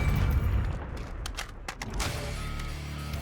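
Gunfire in the Warzone Buy Back Solos video game: several loud, sharp cracking shots cut through a dense rumbling battlefield bed. The bursts come spaced apart, with no voices.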